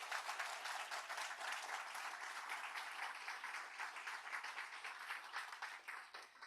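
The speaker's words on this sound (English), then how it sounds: "So big applause to you." A conference audience applauds warmly, with dense, steady clapping that holds at an even level throughout, then thins slightly toward the end.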